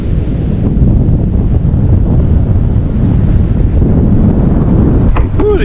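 Strong wind buffets the microphone on a long, cold beach, a loud continuous roar blended with distant surf, steady throughout with no talking.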